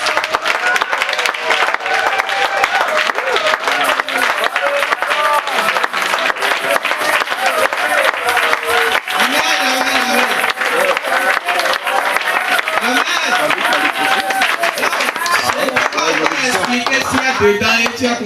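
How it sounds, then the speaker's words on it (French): A church congregation claps loudly and continuously for a long stretch, dense rhythmic clapping mixed with crowd voices and shouting throughout, close and full. "quand nous applaudissons notre Dieu"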